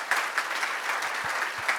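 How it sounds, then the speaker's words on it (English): Room-filling applause at the closing of an Africa project management conference, many hands clapping in a steady wash with a few sharper nearby claps and low thumps punctuating it. "We'll clap for them anyway."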